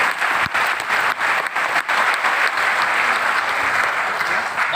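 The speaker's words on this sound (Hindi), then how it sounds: "ताली बजा लेना।" Dense, steady applause from an audience fills a business-building seminar hall in Varanasi, loud and continuous for several seconds with no voices over it.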